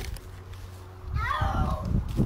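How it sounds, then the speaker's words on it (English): A chubby cat meowing, a drawn-out rising and falling yowl standing out above a hum and rustling handling noise, close by, with a voice faintly present. "that cat crazy"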